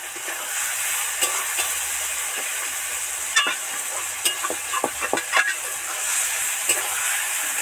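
Onions with a little salt sizzle and fry soft in a pan with a steady crackling hiss, broken by occasional scraping and stirring clicks.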